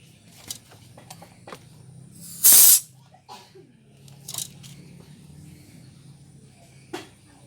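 Air is purged from a refrigerator's refrigerant line during freon charging in a leak repair, a short loud hiss bursting out, with scattered clicks and tool handling before and after and a fainter hiss later.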